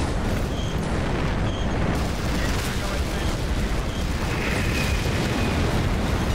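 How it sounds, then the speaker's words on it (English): Heavy artillery explosions rumble and boom almost without pause in the World War II tank battle game Hidden Stroke II, Kursk. A dense, loud barrage of blasts overlaps into a continuous roar. "Such heavy artillery."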